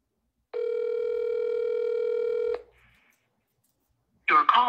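A phone call begins with a steady, buzzing tone for about two seconds, then a short faint blip and silence before a voice starts speaking near the end.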